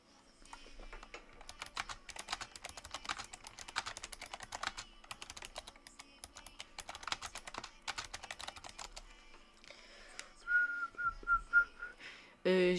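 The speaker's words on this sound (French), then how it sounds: "Mon chat, il a marché sur le clavier." A cat stepping across a computer keyboard, producing bursts of rapid clattering key presses in several runs, followed by a short whistled tone near the end.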